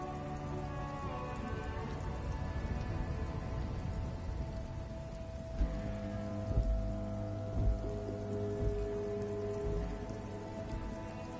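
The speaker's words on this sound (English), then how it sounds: "It's raining again." Steady rain in the video game Disco Elysium patters on a surface, a dense continuous hiss with a few soft thuds, over a faint tonal background hum.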